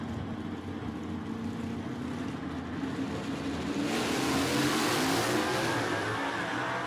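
A 1967 Camaro and a 1966 Mustang sit on a drag strip with engines roaring, a steady loud rumble that swells into a harder, brighter rev near the end.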